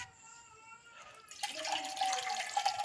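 Food is rinsed in a bowl of water in a village kitchen. It starts quiet, then turns into a steady splashing and swishing that grows louder and continues to the end.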